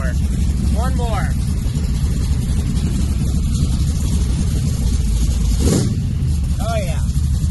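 A nitrous-fed Chevrolet C10 engine sits at idle with no throttle, producing a loud, steady low rumble throughout and a brief surge near the end. People talk over it.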